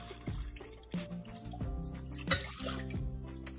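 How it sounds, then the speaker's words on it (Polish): Filtered water poured from a small glass into a pot, making a bright, irregular splashing and gurgling with tonal ringing from the vessel, fairly close and quiet. "Bierzemy taką szklaneczkę, filtrowaną wodę i wlewamy."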